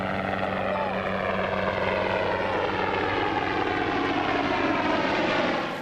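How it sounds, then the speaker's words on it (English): A steady, loud rotor-and-engine drone of a helicopter fills the whole clip, with voices talking faintly underneath. "Even a helicopter coming up."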